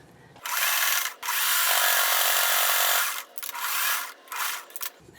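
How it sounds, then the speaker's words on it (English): A sewing machine stitches denim scrap pieces together, its close whirring drone running in several bursts of about a second each with short pauses between, alone and without speech. "I'm going to put, I should say, these two together, and I'm going to sew right there."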